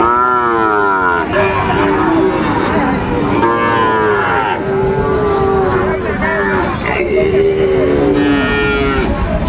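A Sahiwal bull calf at a cattle market moos loudly and repeatedly at close range, long drawn-out calls over constant crowd chatter and bargaining voices.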